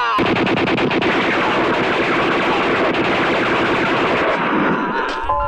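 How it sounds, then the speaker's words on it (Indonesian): Dense, sustained film gunfire as Dutch troops shoot, rapid bursts of shots running together for several seconds before easing off. "mereka ditembaki oleh pasukan Belanda"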